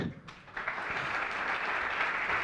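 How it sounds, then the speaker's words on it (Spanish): Soft, steady applause from a conference audience greeting a remote guest, a dense even wash of clapping heard from some distance. "Un aplauso para Mark."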